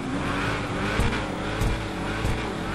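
A hot rod's engine in the GTA 5 video game revs loudly and steadily, with a few sharp bursts that may be backfires.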